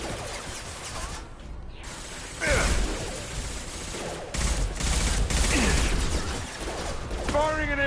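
An impact shot fires in a video game: loud, sharp bursts of blasting gunfire-like noise with mechanical clatter, over game sounds and a voice speaking.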